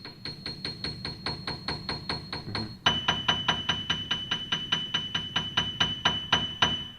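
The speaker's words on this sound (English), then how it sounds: "we can change the hammer noise" A Roland HP-603 digital piano plays a steady run of repeated notes, each with a soft mechanical hammer-noise knock at its start, jumping to a higher pitch partway through.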